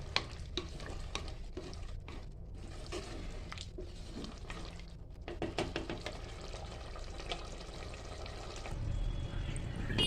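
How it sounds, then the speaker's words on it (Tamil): Tamarind-based kara kuzhambu curry simmering in a pot, with a close, continuous bubbling and sizzling that has irregular stirring clatters and grows louder near the end. "குழம்பு இப்போது கொதித்து சூப்பராக ரெடி ஆயிடுச்சு."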